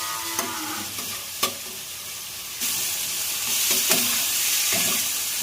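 Potatoes for egg biryani sizzle in hot oil while a spoon scrapes and clatters against the pan in scattered strokes, and a louder hiss of frying rises partway through, close and with no talking.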